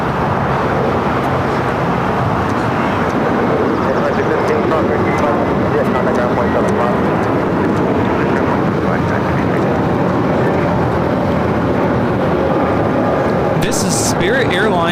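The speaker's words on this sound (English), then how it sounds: "This is Spirit Airlines 110 taking off to Salt Lake City on the A321neo." Spirit Airlines Airbus A321neo taking off at LAX, bound for Salt Lake City, a steady broad jet roar filling the whole stretch under continuous background chatter and street noise.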